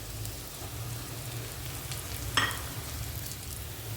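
Spice powders fry in oil for a taro masala, giving a soft, even hiss with one brief utensil clink partway through. Faint and close, with no voices.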